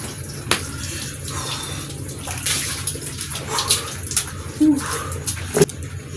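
Water pours and splashes while someone bathes, an uneven wet sloshing close by in bursts, with faint voices underneath.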